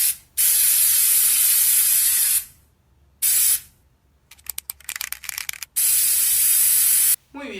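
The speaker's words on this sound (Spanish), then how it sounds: "damos vuelta al aerosol" An aerosol spray can hisses in several long bursts with gaps between, followed by a series of short sputtering spurts and a final long spray, loud and close.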